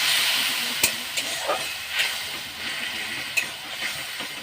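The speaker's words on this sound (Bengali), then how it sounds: "একটু হালকা করে জল দেব, মশলাটাকে ভালো করে কষবো।" Spice paste with turmeric frying and being stirred in a pan while cooking a prawn and elephant-foot-yam stem curry, a steady close sizzle and hiss broken by a few scraping stirs.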